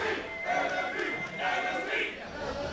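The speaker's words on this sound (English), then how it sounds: "The crowd chanting their favorite tri-codes for their favorite team." A large arena crowd at a 2015 North American League of Legends esports match chants team tri-codes, the massed voices swelling and falling in a steady rhythmic pulse, loud and reverberant.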